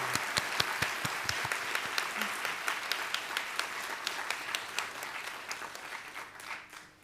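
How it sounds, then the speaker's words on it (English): Audience applause at a university inaugural lecture on precision oncology, a steady burst of many hands clapping that fills the room evenly and fades toward the end, with no voices over it. "Maybe we'll give applause to Mr. Lee."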